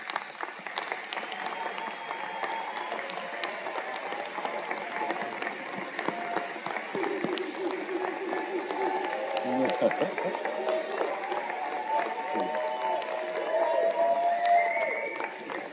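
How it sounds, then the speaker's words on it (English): Audience applause for standing faculty at a fall university commencement, a long steady wash of clapping filling a large hall, with speech-like sounds and some cheering mixed in, swelling slightly toward the end. "would the faculty please stand so we could give you all a round of applause as well"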